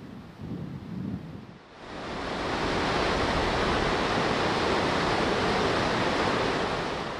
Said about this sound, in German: Über eine Breite von etwa 100 Meter ergießen sich die graubraunen Wassermassen des wasserreichsten Wasserfalls Europas über 45 Meter in die Tiefe.